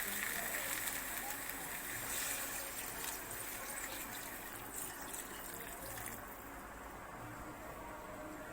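Water being poured into a pot of jackfruit curry cooked with goat fat, a continuous rushing, hissing pour that fades slightly toward the end, with a voice faintly present.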